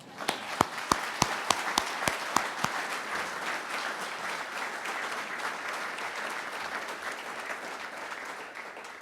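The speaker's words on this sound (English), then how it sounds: "Please join me in a round of applause for him." At a West Point change-of-command military ceremony, a few sharp, evenly spaced claps ring out first, then a full audience joins in a steady, softer wash of applause that carries on.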